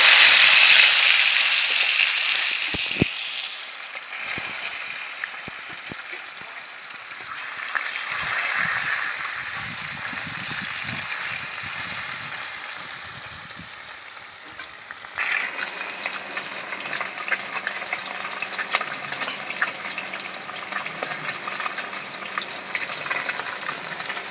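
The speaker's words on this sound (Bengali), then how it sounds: "মাছে আমি হলুদ নুন মাখিয়ে নিয়েছি এবার আমি তেলে দিয়ে দিচ্ছি" Rohu fish pieces rubbed with turmeric and salt hit hot oil in a pan, a loud, sustained crackling sizzle that hisses steadily close up for the whole stretch, flaring sharply partway through with no talking over it.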